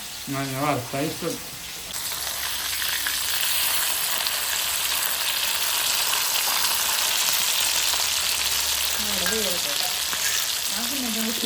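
Mint leaves frying in a pan for prawn biryani, a loud steady sizzle that fills most of the stretch, with someone talking briefly at the start and again near the end.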